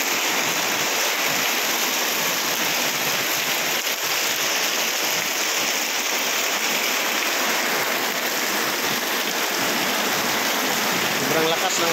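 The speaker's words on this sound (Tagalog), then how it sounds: "grabe ang lakas talaga ng ulan" Heavy rain pours down during a storm, a loud, constant hiss of water beating on surfaces that fills the whole stretch, with people talking faintly underneath.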